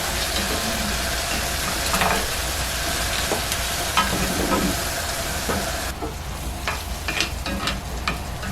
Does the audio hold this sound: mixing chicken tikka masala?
yes